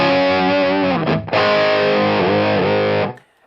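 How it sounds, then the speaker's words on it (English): Electric guitar through a Lucid Dreamer light overdrive pedal, a tube-screamer style drive: two sustained, slightly gritty chords with a brief break between them, ringing loud and alone before cutting off sharply. "Lucid Dreamer first. It is a very light overdrive distortion type."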